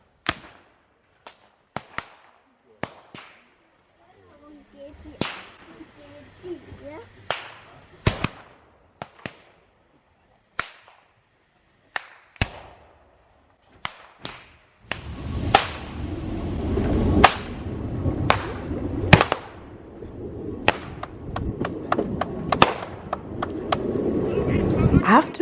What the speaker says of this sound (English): when it suddenly bangs and smokes. Only with blank cartridges